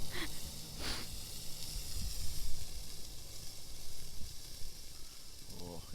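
Salt-and-pepper seasoned meat sizzling on a grill over a campfire at night, a steady close crackling hiss with brief clinks and faint voices in the background.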